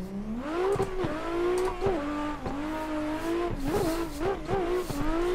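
Drifting BMW E36 on a banked track in a racing simulator, engine tone rising and falling steadily with continuous tire squeal and repeated clutch-kick revs, loud and close with no talk.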